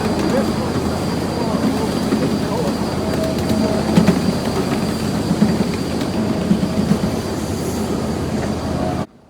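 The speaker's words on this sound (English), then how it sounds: "And the Shay, making quite a dramatic appearance on top of this hill." A Shay steam locomotive rolls past at a steam show, its train cars producing continuous rumbling, rattling wheels and occasional squeals, fairly close and steady throughout before cutting off at the end.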